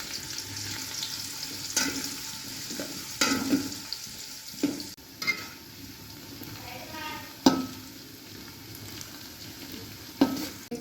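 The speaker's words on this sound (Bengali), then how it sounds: "এবার পেঁয়াজটা দিয়ে দেবো," Sliced onions sizzle in hot oil in a cooking pot for biryani, a steady close frying hiss broken by several sharp scraping stir strokes against the pot.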